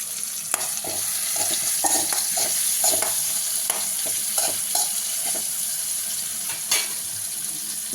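Onions sizzle and fry in a pan while a spoon stirs them, a steady crackling hiss broken by frequent close scraping strokes against the pan, with no talk.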